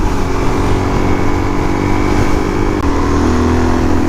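Supermoto motorcycle engine droning steadily and loudly while riding, a continuous close engine hum with wind rush and a slight shift in pitch near the end.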